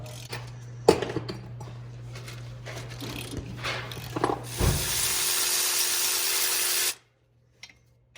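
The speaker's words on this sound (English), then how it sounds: "I'll take the rest of the 3 bolts off" A ratchet works on the wheel hub bolts of a Chevy Tahoe, with clicking mechanical turns and taps over a low hum, then a loud sustained whirring burst that cuts off abruptly into near silence.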